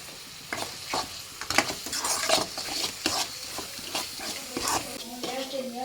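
A spoon scrapes and stirs spiced tempering for puliyogare through sizzling oil in a pan, with irregular clinks and scrapes over a steady crackle, close by.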